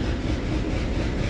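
Freight train rolling past a station platform on an Indian rail line, a steady loud low rumble with a continuous rushing roar, close and unbroken throughout, with no voices over it.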